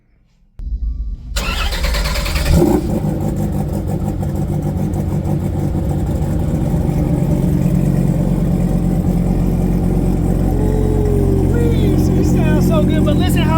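A 2,500-horsepower E85-fuelled race car engine fires up on a dyno and then settles into a loud, steady, rumbling idle. The sound is close and continuous, and people talk under it.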